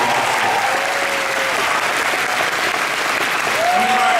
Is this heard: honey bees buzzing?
no